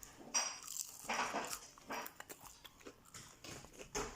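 Crunchy bites into a perilla leaf pancake dipped in ponzu sauce, a series of close, sharp crackling crunches and chewing sounds spread over a few seconds, with no talking.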